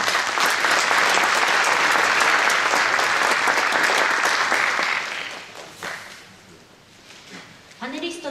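An audience in a hall applauds loudly and steadily at the close of a public candidates' debate for an election. The dense clapping fades after about five seconds, leaving sparse claps and some talk.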